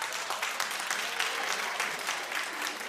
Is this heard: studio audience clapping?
yes